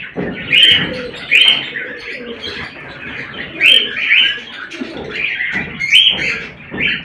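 A pair of cockatiels at a clay-pot breeding box give loud, close calls, with bursts of sharp chirps repeating every second or so over several seconds.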